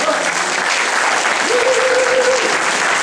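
Loud, steady applause from an audience welcoming a guest on stage, dense clapping throughout with a faint voice briefly audible over it.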